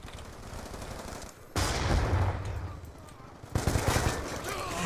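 Gunfire in Call of Duty Black Ops 2 multiplayer, two loud bursts of rapid shots separated by quieter stretches, with game noise throughout.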